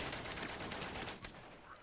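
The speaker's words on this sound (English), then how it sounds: "Okay, more gunfire." Muffled rapid gunfire bursts crackle through the battle in the World War I video game Valiant Hearts: The Great War, with repeated shots blending into a dense, fairly quiet volley.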